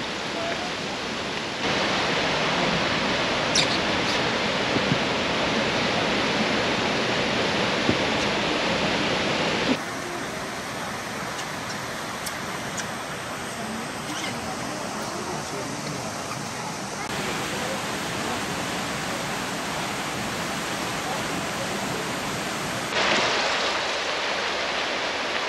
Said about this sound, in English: This should be that waterfall, huh?